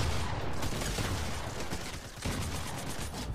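Rapid gunfire from a Fortnite match rattles on almost continuously, a dense, loud burst of shots with a brief dip partway through and no voices over it.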